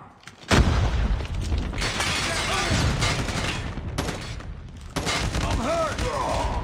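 A frag grenade bursts in Call of Duty Mobile with a sudden loud blast, then a dense, continuous roar of battle noise and gunfire that briefly dips and surges again, while voices call out over the din.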